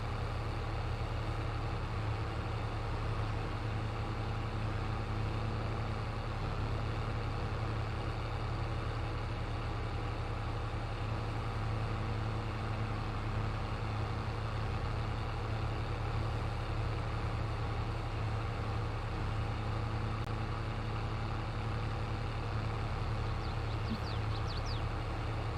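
A 180-horsepower tractor engine runs in the Farming Simulator 22 video game, giving a loud, steady, unbroken low drone that holds the same level throughout, with no talking.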